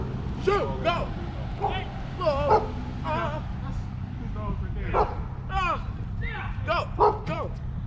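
A dog barks in sharp yips and lets out whimpers, several short bursts close by, mixed with excited shouting from people in a noisy outdoor scene.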